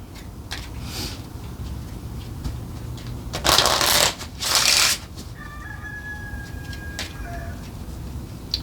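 Tarot cards being shuffled close up in two quick riffling bursts, with a rooster crowing and a cat meowing faintly in the background.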